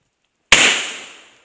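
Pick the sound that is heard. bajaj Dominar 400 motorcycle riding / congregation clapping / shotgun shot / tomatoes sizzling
shotgun shot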